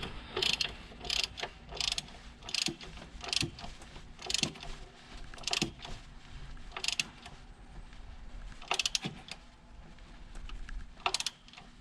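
A hand ratchet tightening bolts on a Subaru WRX pitch stop mount, quick bursts of sharp metallic clicking repeating irregularly up close with short pauses between strokes.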